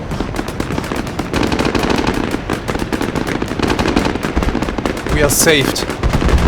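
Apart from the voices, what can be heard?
BMP vehicles firing guns at enemies in a video game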